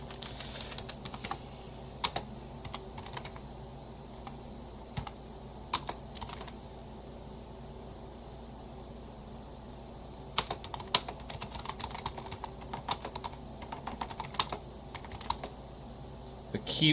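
Typing on a computer keyboard with a troublesome space bar, bursts of quick clicking keystrokes close up, pausing in the middle stretch and resuming in denser runs toward the end, with a faint voice in the background.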